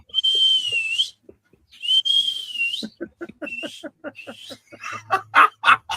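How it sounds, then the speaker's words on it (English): Two long, loud, piercing whistles, followed by shorter whistles mixed with someone talking. "I had to really whistle on that one."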